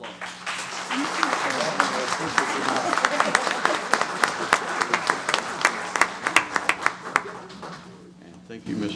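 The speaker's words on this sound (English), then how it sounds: "Let's give them one more round of applause." Applause fills a city council meeting, a crowd clapping steadily for several seconds, sharp individual claps standing out as it winds down, with voices murmuring underneath.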